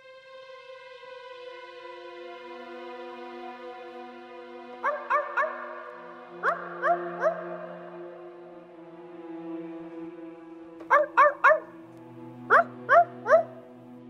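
A voice imitates dog barking in quick sets of three sharp barks, repeated several times over a steady sustained musical tone, fairly close and clear.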